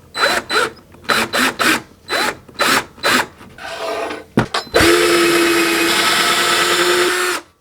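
A power drill bores a hole into a wall to mount a bookshelf: several short bursts of whirring, then a longer steady high-pitched run as the bit cuts through, close and loud with no talk.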